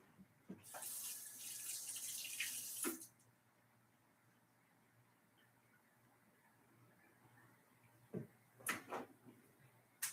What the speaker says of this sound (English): while I put some water in here